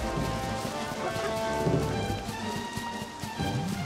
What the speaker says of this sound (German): Lieber genieße ich den sanften Regen.